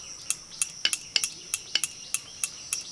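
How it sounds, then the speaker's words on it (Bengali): An iron knife scores shallow cuts into pomfret and prawn on a hard surface, making about ten sharp, crisp clicks and taps spaced at a steady rhythm, close and clear with no talking. "প্রতিটা মাছকে এইভাবে একটু করে কেটে দেবো।"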